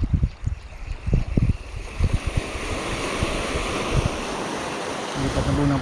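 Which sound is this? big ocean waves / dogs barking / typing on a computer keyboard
big ocean waves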